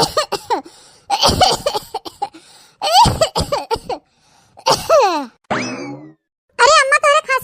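An elderly woman in a rural comedy sketch coughs in short harsh bursts between bouts of loud speech, with a springy cartoon sound effect in the middle.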